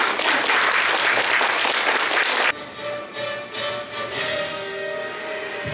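Loud applause from an assembled crowd greeting a new school principal at a handover ceremony, dense and steady for a couple of seconds before cutting away to a quieter room tone.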